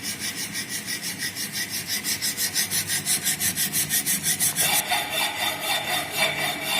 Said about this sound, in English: when we are performing the file operation